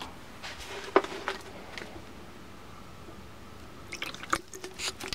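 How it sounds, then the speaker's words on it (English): Water added to a glue slime mixture already holding conditioner and lotion, giving soft wet squishes and drips with a couple of sharper sticky pops, quiet and close, with a busier squelching patch near the end. "you want to add a little bit of water as well"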